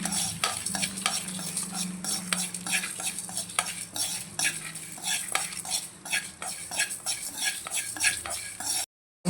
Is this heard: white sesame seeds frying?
yes